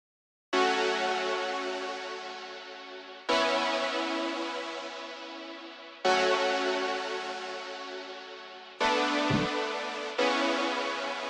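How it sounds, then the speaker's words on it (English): Sustained synth chords from the intro of a liquid drum and bass track, Hospital Records style, change in four long, slowly fading swells, smooth and wide with no drums or voices. "The intro chords sound like this"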